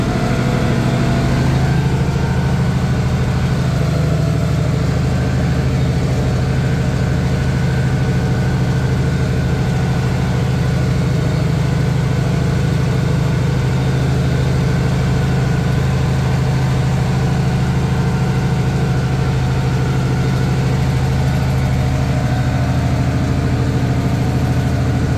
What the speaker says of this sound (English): International 756 diesel